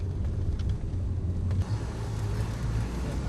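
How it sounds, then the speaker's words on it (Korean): Steady low engine rumble of a crowded minibus driving across snow toward taiga forest, a continuous droning hum with a brief dip partway through. "차는 눈밭을 가로질러 타이가 숲을 향해 달려갑니다."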